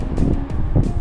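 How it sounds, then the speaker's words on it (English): Wind buffeting a microphone outdoors while riding a Veteran Patton-S electric unicycle, a loud low rumbling gust throughout with no talking. "it's kind of windy right now, which kind of sucks"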